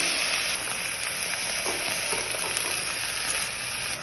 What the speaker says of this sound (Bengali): এবার শাকগুলো আমি দিয়ে দেবো কড়াইতে, অল্প করে দেবো আর মিক্স করতে পারবো